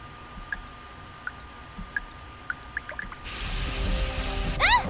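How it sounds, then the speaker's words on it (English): Water leaking from a ceiling in the video game Nikke Goddess of Victory: scattered drips at first, then a sudden steady rush of running water, ending in a burst of louder splashing. "Water's coming from the ceiling!"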